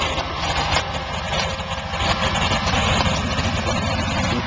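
An idling car engine rumbles up close with its exhaust note, a steady, loud, even drone holding throughout with slight fluctuations and no talk over it.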